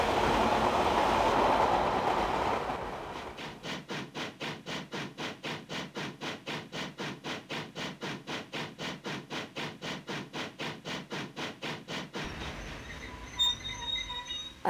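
A train rushing past fast, its wheels beating a steady rapid clickety-clack over a low rumble for several seconds after an initial roaring approach, then cutting off abruptly into quiet.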